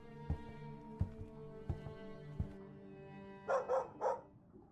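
A dog barks on board in the Minecraft video game, four sharp separate barks spaced about a second apart, followed by a short cluster of three louder noisy yelps or growls, with no talk.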